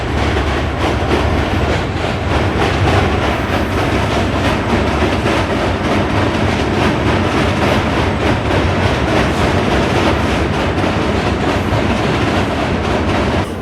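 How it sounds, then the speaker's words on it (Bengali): A train rolls across the Hardinge Bridge over the Padma River directly overhead, a loud, continuous rumble with rapid rhythmic clatter of wheels on the steel span, sustained without pause. "এই যে আমার মাথার উপরে ব্রিজের মধ্যে ট্রেন।"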